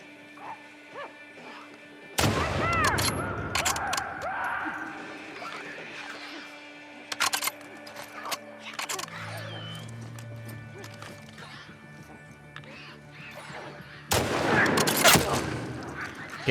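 Enemy gunfire in The Last of Us Part 2, shots cracking from a raised position in sharp bursts, clustered at the start and again near the end, with quieter game ambience between.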